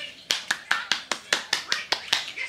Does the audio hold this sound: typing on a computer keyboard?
no